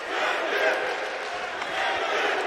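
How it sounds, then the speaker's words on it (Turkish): Crowd chanting and roaring for a fighter at a fight night at Orça Fight Club during the bout's final seconds, a loud steady mass of voices filling the hall with swelling bursts. "Cengiz tezahüratları son 15 saniyeye girdiğimizde"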